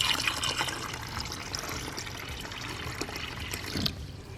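Reptisafe-treated water poured into a hermit crab tank makes a soft, continuous trickle and splash, fairly quiet and steady with a slight surge near the end, and no one talks.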